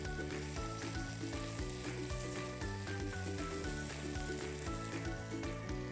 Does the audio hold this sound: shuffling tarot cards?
no